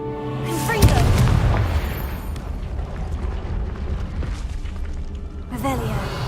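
A Confringo fire spell bursts with a loud boom in the video game Hogwarts Legacy, followed by a rumbling, crackling tail and a second flare near the end, under a player's voice.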